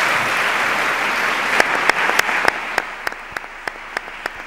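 Applause from an audience at a Córdoba ceremony honouring a city gold medal recipient, a steady dense clapping wash that thins toward the end, with a few sharp, louder individual claps standing out over the fading crowd.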